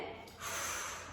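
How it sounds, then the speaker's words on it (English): A sharp breath drawn in during a Pilates exercise with a mini resistance band, a brief close inhale through the nose, heard alone without talk. "So you're going to breathe in"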